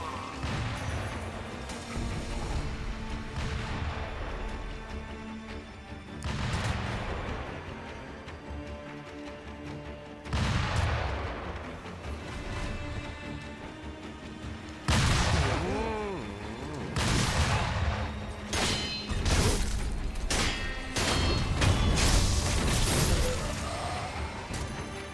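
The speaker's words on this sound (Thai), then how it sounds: "โอ้ยมีประทัดด้วยเหรอ" Firecrackers going off in the video game Sekiro: Shadows Die Twice, a run of sharp cracks and bangs over about 25 seconds, mixed with game music and combat noise.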